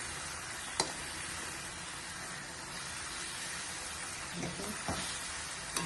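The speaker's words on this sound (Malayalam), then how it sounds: "ഈ വേകുന്ന എണ്ണ വേകുമ്പോൾ ഈ ക്യാരറ്റും കൂടെ കിടന്നാണ് വേഗുന്നത്" Steady crackling sizzle of carrot frying in hot oil, fairly close, with an occasional sharp tap of a utensil.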